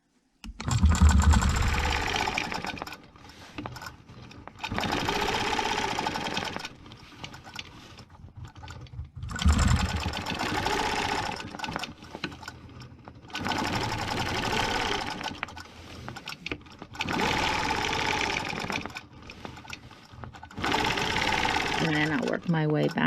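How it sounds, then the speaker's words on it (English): A sewing machine stitches a stencil background design in steady, whirring runs separated by short pauses, close and clear, with a person talking between and over the stitching. "And then go ahead and stitch these."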